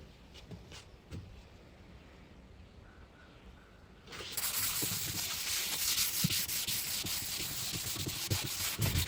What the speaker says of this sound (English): I'm going over this with a 120 grit sandpaper before I do anything else.